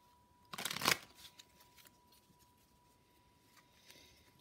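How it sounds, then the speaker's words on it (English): A quick riffle of playing cards being shuffled, one short crisp burst followed by faint handling noises in a quiet room. "I'm just going to shuffle a few more times"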